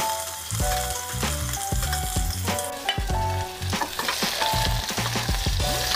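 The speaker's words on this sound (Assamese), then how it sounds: "পিয়াজখিনি অলপ ভাজি লম" Chopped onions fry in a pan after ginger, hissing steadily while a utensil stirs and scrapes in repeated, fairly regular strokes, close and loud, with no talking, as jadoh with pork is cooked.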